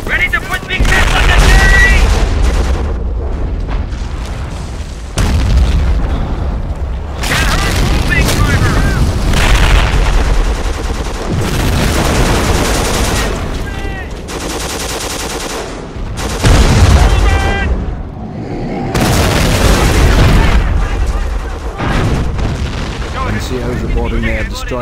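Battle in Company of Heroes on a World War II D-Day or Afrika 1943 map, with loud, dense bursts of gunfire and repeated heavy explosion booms piling on each other, broken by short lulls.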